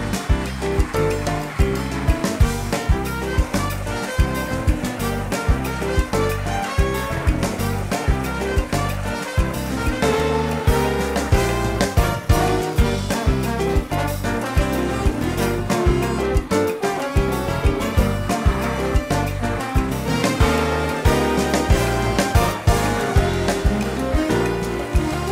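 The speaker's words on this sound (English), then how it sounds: "In the sink, give the filter a thorough rinse." Water runs steadily into a sink while a vacuum filter and canister from a Bissell Zing are rinsed under it, a dense continuous gush with irregular splashing and sloshing, close and fairly loud, no talking.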